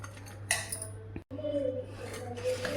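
A spoon clinks and scrapes against a bowl while spicy chicken pickle is mixed with lime juice, a few light close clinks over a steady low hum, with no talking.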